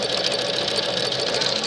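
A Japanese embroidery sewing machine stitches flower designs with a fast, steady mechanical whir and rapid needle clatter, loud and continuous throughout.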